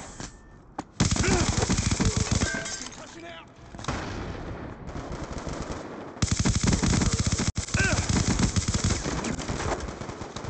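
Sentry gun in Black Ops II opening fire in sustained rapid bursts, loud and close, with brief pauses between volleys and game voices underneath.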